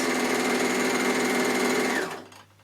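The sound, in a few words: overlocker sewing rolled hem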